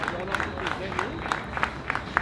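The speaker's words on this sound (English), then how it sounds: "You all have to give these young people a round of applause" Audience applause for young speakers at a youth speaking competition in Barbados, a moderate round of clapping mixed with crowd murmur and some voices.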